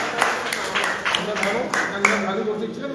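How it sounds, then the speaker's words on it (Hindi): An audience applauds a speaker at a health and wellness talk, with dense clapping and rhythmic surges under a voice that carries on over it. "डॉक्टर हाजी याकूब साहब के लिए एक बार जोरदार तालियां"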